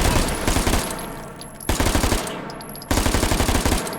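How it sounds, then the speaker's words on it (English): Bursts of full-automatic gunfire in the VR shooter game H3VR, three sustained rapid-fire strings separated by brief pauses, loud and close with no talking. "I've had much better luck just using full automatic fire"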